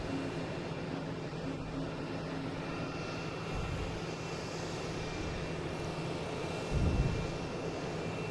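A NetJets executive jet arriving at Portland from Atlanta, heard as a moderate, even engine rumble and hiss with a brief louder low thump near the end and no speech.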